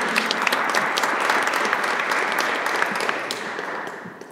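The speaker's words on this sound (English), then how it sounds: "Huge applause." Applause fills a conference hall for international alumni of Polish universities, steady and dense over four seconds before gently tapering off at the end.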